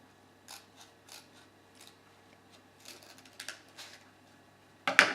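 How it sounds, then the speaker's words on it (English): Scissors snip through paper while a paper airplane is cut up toward the flaps, giving a few faint, sparse clicks in a quiet room and a louder, sharper cut at the very end. "Take your scissors and cut from there, from that point, all the way up to where the flaps connect."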